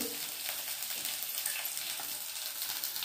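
Ginger pieces frying in a pan with stuffed brinjal, a steady, soft sizzle with fine crackling that continues evenly throughout, fairly quiet and with no talking over it.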